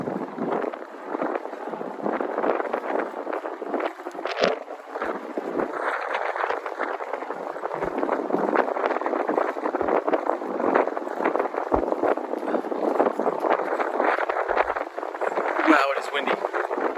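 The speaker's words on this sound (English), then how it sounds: "Wow, it is windy." Steady, heavy wind buffets the microphone throughout in Midtown Manhattan at night, a constant rushing roar with occasional gusts, and a voice talks underneath.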